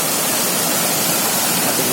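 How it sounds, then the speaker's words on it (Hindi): Chunari waterfall roars up close, a loud, steady broadband rush of falling water filling the whole time with no break and no voices. "मैं इसके अभी बहुत क्लोज आ चुका हूँ, बहुत ही नज़दीक झरने के"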